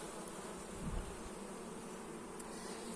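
Honeybees buzz steadily up close at an apiary hive, a dense continuous hum of many wings with no other sounds.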